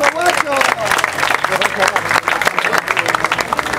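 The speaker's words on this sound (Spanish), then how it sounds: "¡Un aplauso, guacho!" Crowd clapping and cheering at a freestyle rap battle final, a rough mix of hand claps and shouts mixed with loud overlapping voices, rising and falling in bursts.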